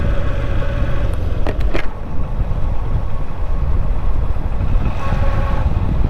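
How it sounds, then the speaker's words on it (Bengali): Motorbike ride near a Bangladeshi market, a loud steady engine drone with rushing wind noise throughout, close-up, broken by a few brief sharp clicks early on, with no talking. "দেখতেই পারতেছেন বাইক চালাইতেছি"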